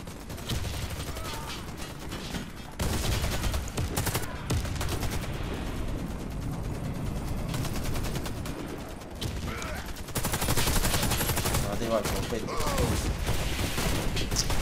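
Rifle and automatic gunfire rattle through a Warface match in repeated bursts, with brief gaps between them and a mix of loud close volleys and fainter distant shots.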